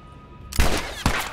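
Two loud, close gunshots from The Last of Us, the first a sharp blast and the second following about half a second later, each with a short rumbling tail and no talk over them.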